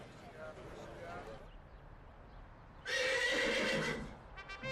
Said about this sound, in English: That's right, the horse. This is no ordinary hay chewer.